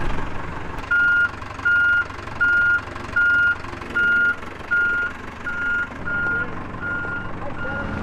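A truck's backup alarm beeps about ten times at an even pace, close and clear over a low engine rumble.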